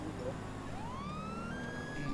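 Police siren from the video game GTA 5, a faint rising wail sweeping upward over a steady background drone, with no speech.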